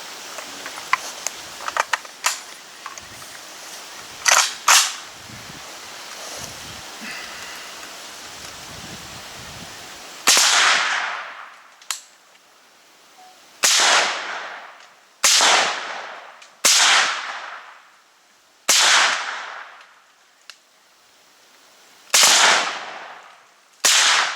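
A string of sharp, suppressed 5.45 mm AK-74 rifle shots, about eight evenly spaced cracks, each with a quick decaying tail, preceded by scattered outdoor noise and fainter pops.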